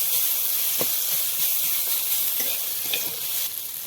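Green chili and ginger frying in hot oil, a loud continuous sizzle and hiss with a few soft stirring knocks, close up and without talk.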